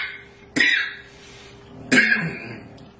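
Two sharp coughs, a second or so apart, each a loud burst trailing into a rougher throaty tail, close by.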